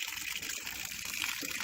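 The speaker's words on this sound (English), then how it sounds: "it's not draining as fast, or flowing as fast as it should be yet down below" Slightly green water drains and gushes from an off-grid water supply, a constant nearby flow with a soft rushing texture, heard alone without speech.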